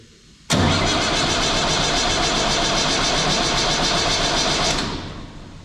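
A tractor engine with a faulty starter motor cranks: a sudden loud, dense roar that holds steady for about four seconds, then quickly fades away. Close and alone.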